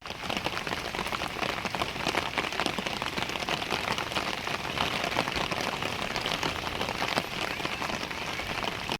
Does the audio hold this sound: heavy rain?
yes